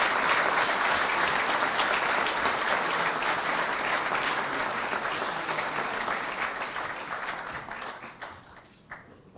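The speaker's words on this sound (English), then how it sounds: "let's have another round of applause for the 2018 class of the Hamilton Athletic Hall of Fame" An audience at the 2018 Hamilton City School District Athletic Hall of Fame ceremony breaks into dense, sustained applause that thins out and fades toward the end, with no talk.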